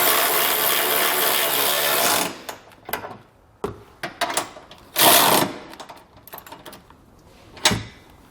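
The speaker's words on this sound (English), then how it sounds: "we can grab a socket and snug it all down" Socket wrench snugging down the bolts of a Curt trailer hitch receiver on a 2020 Mazda CX-5, heard first as a steady buzzing run of rapid ratchet clicks, then short separate bursts of clicking and metal knocks, close and fairly loud.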